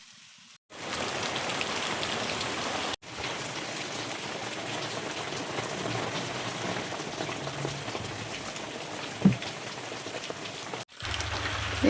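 Heavy rain pours down outside a village home, a dense, steady hiss of drops on surfaces heard close and continuously, broken by brief cuts and one short knock.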